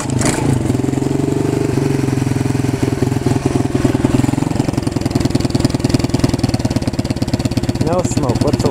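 A new 110cc pit bike starts from cold and settles into a steady, fast-pulsing idle. The engine is loud and close throughout.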